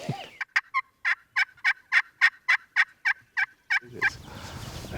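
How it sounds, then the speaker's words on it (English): Wild turkeys in the West gobble in a rapid run of about a dozen loud, rattling calls, evenly spaced and fairly close, followed by a rustle of movement as the calls stop. "There's turkeys gobbling"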